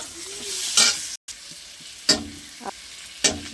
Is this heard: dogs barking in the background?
no